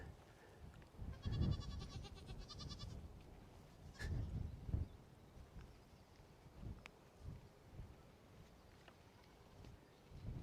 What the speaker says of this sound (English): There's the goats, lots and lots of goats. A gathering, a herd.